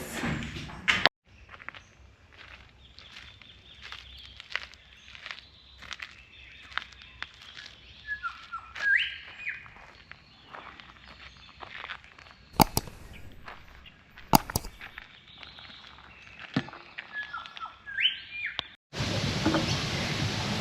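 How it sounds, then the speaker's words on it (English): Scattered bird chirps and short calls over quiet outdoor ambience near Albury Wodonga and Lake Hume, with a few footstep-like shuffles and bumps; the birds sound moderately distant. "You can hear the birds around here."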